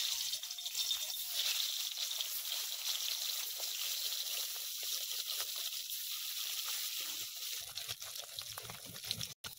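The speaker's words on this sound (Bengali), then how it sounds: "কড়াইতে দেব সর্ষের তেল মাছগুলো ভাজার জন্য।" Small bata fish frying in hot mustard oil in a kadai, a steady close hiss and crackle of sizzling that runs continuously, with faint bubbling and no talking.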